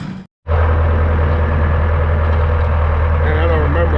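An antique tractor engine idles steadily and loudly up close, a low continuous rumble that cuts out briefly near the start and then resumes, running without a break for the rest of the clip.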